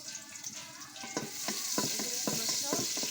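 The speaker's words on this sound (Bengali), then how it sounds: "নাড়া দিচ্ছি কাঁচামরিচ আর" Green chilies and onion fry in oil on a clay stove while being stirred, with a steady hissing sizzle and several scraping strokes close up, and no voices.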